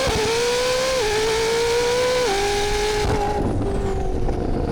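A hypercar launches hard, its engine roaring loud and close as the revs climb through several rising sweeps with brief drops at gear shifts, then fading and thinning toward the end, no talking.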